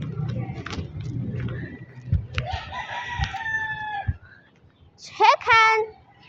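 A rooster crows twice and a chicken clucks among traffic noise, the calls fairly close and loud, with human voices talking over the start.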